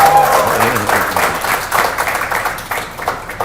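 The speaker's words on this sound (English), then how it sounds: "One round of applause." A round of audience applause for Hera Pheri and its makers, a dense wash of clapping that pulses across the whole stretch, fairly loud with some voices mixed in.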